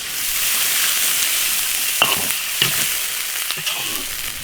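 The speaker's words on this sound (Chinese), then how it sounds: "炒香了以后加水" Turtle and chicken wing pieces sizzle and crackle loudly in a hot wok with liquor, salt and pepper, while a spatula scrapes and clinks against the metal a few times.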